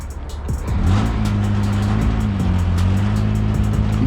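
A car's engine idles and revs steadily up close as it is backed onto a car hauler trailer, a constant low hum with a slight rise in pitch, and no voices heard.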